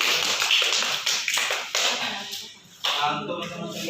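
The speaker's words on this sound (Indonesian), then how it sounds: "Bisa diberi aplaus kepada kelompok" Applause for a student discussion group in a classroom, a dense burst of many hands clapping at close range that thins and fades out, then briefly swells again.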